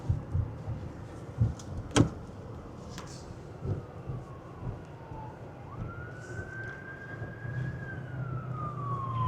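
An ambulance siren wails in the distance, rising into a steady tone and then falling away, over low traffic rumble heard from a car, with a few sharp knocks early on.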